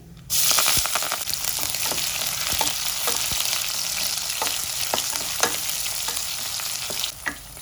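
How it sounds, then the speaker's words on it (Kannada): Onions, curry leaves and dried chillies fry in oil with popped mustard seeds, a steady close sizzle broken by frequent spatula scrapes and clicks as the pan is stirred, with no voices. "ಕರಿಬೇವು ಒಣಮೆಣಸಿನ್ಕಾಯಿ ಈರುಳ್ಳಿ ಹಾಕೊಂಡು ಫ್ರೈ ಮಾಡ್ಕೊಳ್ತಾ ಇದ್ದೀನಿ"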